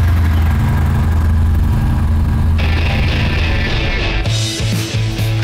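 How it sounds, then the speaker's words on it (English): A 2017 Yamaha SCR950 motorcycle with a 942cc air-cooled V-twin runs loud and close, a steady deep pulsing engine note that climbs in pitch as it revs up toward the end. "Plus, that unmistakable V-twin pulse."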